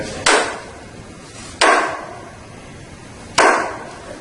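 Three sharp, evenly spaced cuts or slices as a knife trims excess cloth on a pool table during setup, each a crisp broadband burst with a short decay, close and fairly loud, no talking.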